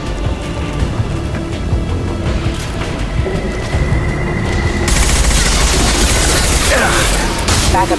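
Sustained gunfire from a Mass Effect 2 battle, dense and continuous across the whole stretch, growing louder and harsher partway through, with game voices and effects mixed in.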